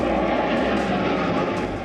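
Indian fighter jets flying at an air show, a loud, continuous engine roar that holds steady with no voices over it.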